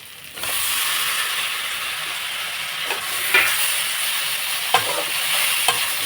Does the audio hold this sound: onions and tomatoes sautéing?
yes